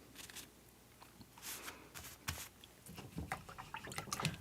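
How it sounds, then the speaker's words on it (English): Wet dripping and sloshing as a paintbrush is rinsed in a water jar during a painting session, with soft irregular splashes and trickles close by, alone and fairly quiet. "Rinsing the brush again."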